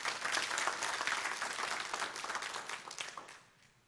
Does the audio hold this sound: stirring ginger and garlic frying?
no